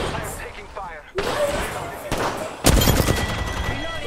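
Gunfire in a squad-based video game shooter, a burst of sharp shots and heavier bangs arriving in clusters over rustling game noise, close and fairly loud, with players talking over it.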